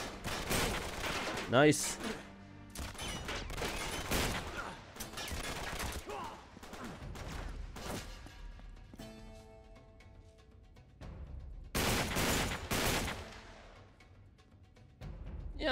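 Rapid bursts of automatic gunfire in Uncharted 3: Drake's Deception, loud and repeated across the scene in several clustered volleys, with a player's brief spoken remark mixed in.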